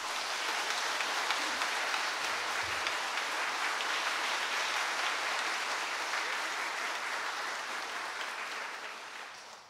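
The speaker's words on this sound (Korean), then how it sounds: "우리 큰 환영의 박수로 한번 맞이하면 좋겠습니다" A church congregation gives a sustained round of welcoming applause at a Sunday worship service. The dense clapping fills the room steadily for nearly ten seconds and slowly fades at the end.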